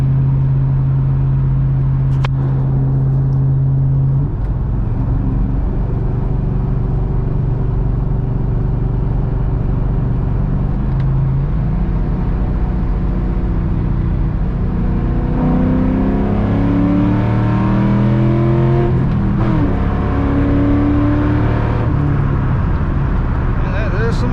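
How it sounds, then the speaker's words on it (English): A 2001 SVT Cobra with 4.10 gears and 18-inch rear wheels pulls hard in third gear from a roll, its engine note rising steadily and loud, with someone talking over it. "that's some 410 gear pulls"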